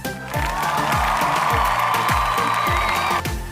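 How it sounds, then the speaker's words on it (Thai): Schoolchildren in a Thai second-grade reading class applaud and cheer for a classmate. A loud burst of crowd noise rides over a steady thumping beat for about three seconds, then cuts off abruptly. "ขอเสียงปรบมือให้มังกรหน่อยสิคะ"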